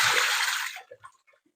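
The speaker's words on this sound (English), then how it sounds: "Let me pour this water out." Water is poured out of a pet water fountain in a broad, close splashing gush that stops abruptly, followed by a few scattered drips.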